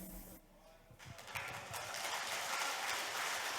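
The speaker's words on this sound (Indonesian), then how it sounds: "sekali lagi berikan tepuk tangan yang paling meriah untuk Bapak Muhammad Fauzan Rahman SE" An audience at the GMBI 2023 national working meeting breaks into broad, sustained applause that swells after a short lull and keeps going strongly to the end.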